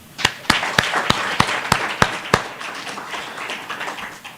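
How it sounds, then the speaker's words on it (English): Symposium audience applauding the speakers: a run of sharp, distinct claps stands out near the front over a broad bed of general clapping, then the applause thins and softens. "a round of applause for the three speakers"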